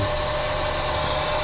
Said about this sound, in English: I'm gonna turn it off and then turn on the vacuum part of here.